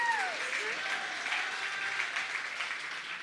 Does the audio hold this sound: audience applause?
yes